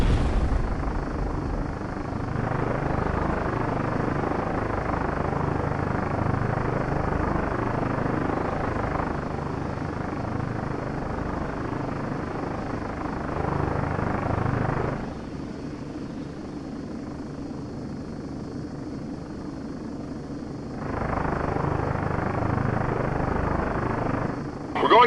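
A Comanche helicopter's rotor in the Comanche 4 game throbs steadily as a loud, continuous drone with periodic swells, occasionally dipping in level before rising again.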